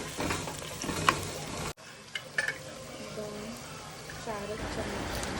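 Potatoes tipped into a pan of onions in a home kitchen, a sharp thud followed by sizzling frying and stirring with a utensil against the pan, close and continuous, with light background noise.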